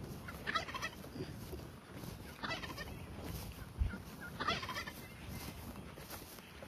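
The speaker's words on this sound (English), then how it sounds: "they have their turkeys gobbling away, gibble gobbling away" Several turkeys gobble in repeated bursts, fairly close, on a farm over a light outdoor background with no talking.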